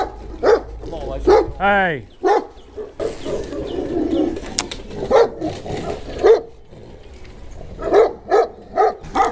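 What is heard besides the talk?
dogs barking at a house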